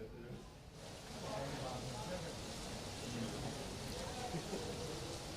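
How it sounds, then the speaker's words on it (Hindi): Heavy rain falls across Jaipur, a dense, steady hiss of drops on surfaces that swells after the first second and holds constant, with no voices standing out. "बारिश रहमत बरसा रही है राजधानी जयपुर में"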